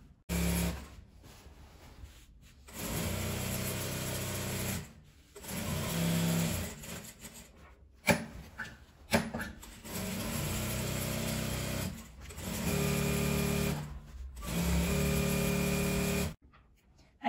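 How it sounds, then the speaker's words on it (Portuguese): A sewing machine stitching around the fabric edge of a patchwork door mat, running in steady bursts of several seconds with short pauses between, close and continuous, no voices. "Eu vou posicionar ele bem, alfinetar e costurar em volta do tecido todo lá na máquina."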